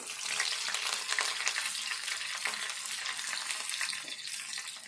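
Onions and curry leaves fry in hot oil, giving a loud, close, crackling sizzle that pops and spatters steadily throughout with no talking.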